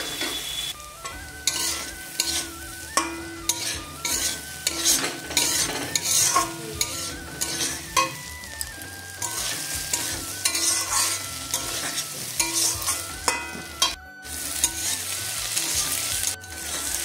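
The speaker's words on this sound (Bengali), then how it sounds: "ডিমের ভর্তা প্রায় ভাজা ভাজা হয়ে এসছে।" Egg bhorta of grated egg with masala, tomato sauce and dried chilli frying in a pan, loud sizzling broken by repeated rhythmic spatula scrapes and stirs, close and without talk.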